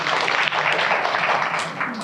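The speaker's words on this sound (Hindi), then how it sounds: "मधुबाला जी, क्या बात है, जोरदार तालियां इनके लिए।" An audience at a gathering at a Buddhist vihara in Nagpur applauds in sustained, dense clapping. It stays loud and even throughout, then eases slightly near the end.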